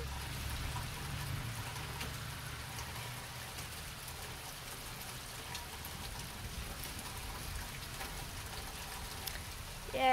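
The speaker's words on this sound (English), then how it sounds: "you can hear the rain as well" Steady outdoor rainfall, an even hiss of drops with a low rumble underneath, continuous and moderately quiet throughout.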